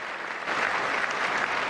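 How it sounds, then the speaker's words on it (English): Democrats in Congress applaud at the State of the Union, a steady wash of many hands clapping that swells slightly after a moment and continues without a break. "they gave themselves a big round of applause for it"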